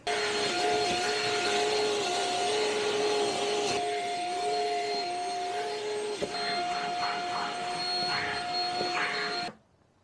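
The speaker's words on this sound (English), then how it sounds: "Surprised he hasn't tried to walk on this while I'm vacuuming." A vacuum cleaner runs steadily indoors, a loud continuous whining hum with a high tonal whistle, shifting slightly as it moves over the floor, then cuts off abruptly at the end; no speech over it.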